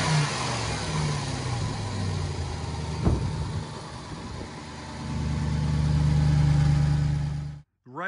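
A Ram TRX pickup on its stock exhaust revs nearby outdoors, its deep engine rising and falling with a sharp blip midway and a long, loud roar near the end before an abrupt cutoff.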